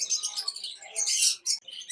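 Cockatiels, including pineapple and green mutation birds, call at a bird market: quick, high, close chirps in clustered bursts with short gaps between them.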